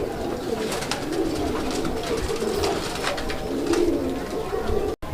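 A male Raj-golla pigeon coos repeatedly in soft, low, throaty calls, close by, over a continuous background murmur.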